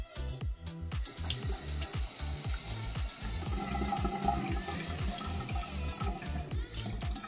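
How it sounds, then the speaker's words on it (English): Running water splashes steadily from a bathroom tap while someone rinses their face, a continuous close rush of flowing water with rhythmic splashing throughout. "I am going to rinse my face and that'll be it."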